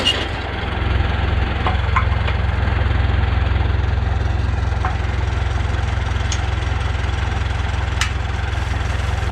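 A tractor pulling a wheel hay rake across a field runs with a steady, loud engine drone and rumble throughout, with a few faint knocks and clicks over the constant low hum.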